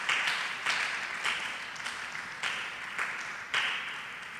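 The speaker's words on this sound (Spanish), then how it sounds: "¿Cuántos pueden darle un aplauso fuerte al Señor en esta hora?" Church congregation applauding in a sustained, even wash of clapping that swells in several surges, heard alone without talk.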